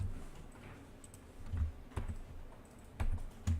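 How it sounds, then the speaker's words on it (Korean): Keys pressed on a computer keyboard give a few faint, separate clicks spread over several seconds in a quiet room, with no talking. "이 방향키를 눌러서 안쪽으로 이렇게 2번 누르도록 할게요"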